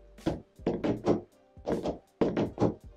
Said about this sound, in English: Just start banging tables.